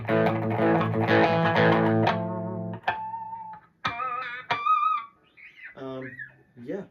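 Electric guitar played through a Boss Katana amp with the booster engaged, giving a light crunchy distortion; a loud strummed chord rings for about two seconds, then several shorter picked notes and chords follow at moderate volume.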